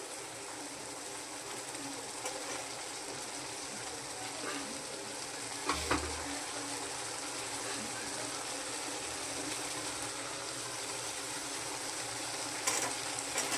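Bottle gourd pieces dropped into spice paste frying in a pan for a prawn and gourd curry, giving a steady broad sizzle with stirring, one brief louder clatter midway, and faint bird coos in the background.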